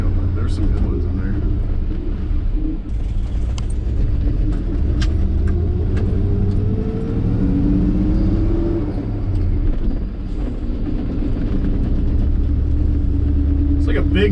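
A 1984 Chevrolet K20 three-quarter-ton truck, used and abused, drives along with a steady engine rumble and road noise from inside the cab, a faint rising whine as it pulls through gears.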